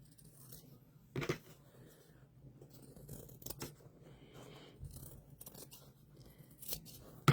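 Scissors snipping quilt block fabric, a handful of faint, irregular crisp cuts spread across a quiet background.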